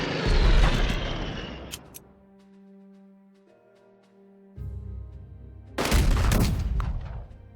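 Bombing-run explosions from a strategy war game, Unity of Command II: a loud rumbling blast burst at the start, a quieter stretch of tonal music, then another heavy explosive burst near the end.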